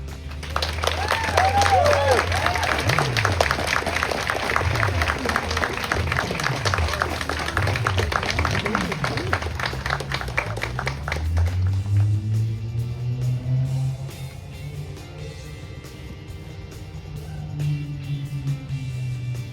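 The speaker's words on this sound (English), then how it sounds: "Let's give one more round of applause for Ellis." Audience clapping for a young reciter named Ellis at an outdoor community celebration marking 250 years of the country, steady for about eleven seconds before fading, with low droning sweeps like passing vehicles and some voices underneath.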